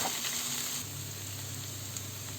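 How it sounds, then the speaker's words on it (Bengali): Garlic and onion sizzle quietly in a pan, a soft, even frying hiss that continues without pause and without voices. "এই যে মোটামুটি ভাজা হয়ে গিয়েছে রসুন এবং পেঁয়াজটা।"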